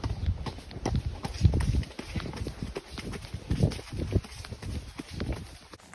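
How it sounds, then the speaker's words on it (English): Horse hooves cantering in an even, rolling three-beat clip-clop rhythm, close and fairly loud, during a side-saddle riding session, with faint background noise and no talk. "go and have a little canter and a bit of fun"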